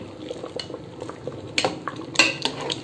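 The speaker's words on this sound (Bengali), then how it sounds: "দিয়ে এখন সুন্দর করে নেড়ে দেবো।" A spoon stirs turmeric into rice and ginger cooking in a pot in a home kitchen, with several close, sharp clinks and scrapes against the metal over a soft simmer.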